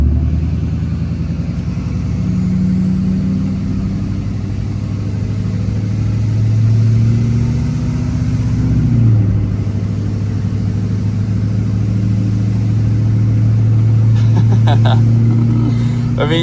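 Duramax pickup truck accelerating while towing a trailer, a steady low engine drone heard from inside the cab, rising in pitch and then dropping as it shifts, with tire and road noise beneath.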